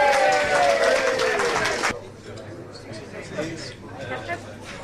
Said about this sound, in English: So a big round of applause for our president.